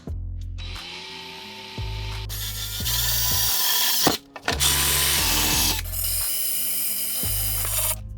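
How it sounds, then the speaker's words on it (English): A power drill drilling pilot holes for a DIY kayak cart whirs in several bursts, its motor pitch rising and falling as it bites into material, loud and close with brief pauses between runs. "So we'll drill a pilot hole, drill that out"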